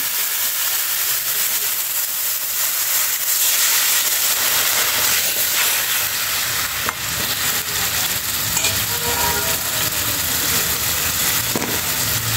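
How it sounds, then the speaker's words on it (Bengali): Water splashed into a hot pan of raw mango pickle being stirred sets off a loud, steady sizzle and steamy hiss that runs throughout, with scraping stir sounds and no talking. "এখন আমি একটু সামান্য একটু জল দিয়ে দেবো।"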